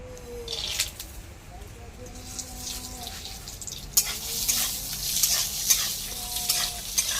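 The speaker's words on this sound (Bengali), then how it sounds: "প্রথমে আমি বাদামটা ভেজে নেবো" Peanuts fry in hot oil in a wok, a steady broadband sizzle with scraping stirs that grows louder and brighter about halfway through, heard close with no talk.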